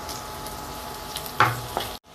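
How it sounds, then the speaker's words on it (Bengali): Chopped ginger and garlic fry quietly in a pan for shrimp fried rice, a soft steady sizzle with a couple of brief stirring scrapes before it cuts off. "এখানে আছে আদা কুচি, রসুন কুচি দিয়ে দিলাম,"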